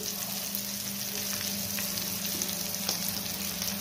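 Ragda patties sizzle and fry steadily in a pan, a continuous crackling hiss with a few brief clinks and scrapes as they are flipped.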